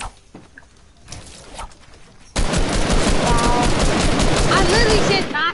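Fortnite gunfire: after a few quiet seconds with scattered shots, rapid automatic bursts erupt loudly and continue densely to the end, with voices talking over the shooting.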